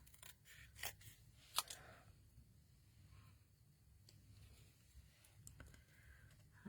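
Scissors fussy-cut around a stamped paper card in a quiet room. A few crisp snips and short blade clicks fall at uneven intervals, with soft paper handling between them.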